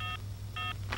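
A telephone number is dialed as two short keypad tones a moment apart, each one clear and close, over a low steady hum.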